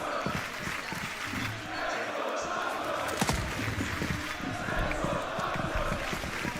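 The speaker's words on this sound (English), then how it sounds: "And the crowd get behind them." A crowd roars at an esports match in a large arena, a sustained dense swell of cheering with sharper bangs and thumps, heard under loud commentary.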